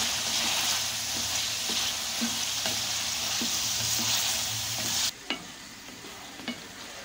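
Chicken, carrot and capsicum frying in a pan with a steady bright sizzle and occasional stirring scrapes, the hiss dropping away abruptly partway through, leaving a few faint knocks of a spoon.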